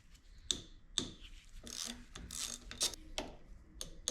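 A ratchet clicks as fasteners come loose on an mTDI diesel injection pump being disassembled. Sharp single clicks are followed by rapid metallic ratcheting bursts and a few more clicks, all close and fairly quiet, with no speech.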